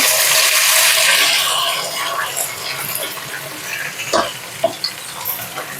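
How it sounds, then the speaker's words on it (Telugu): Okra goes into hot oil with tempering seeds for bendakaya fry, giving a loud close sizzle at first that fades to quieter frying with a few stirring scrapes. "తిరగమాత గింజలు వేయినాక బెండకాయలు వేసుకోవాలి"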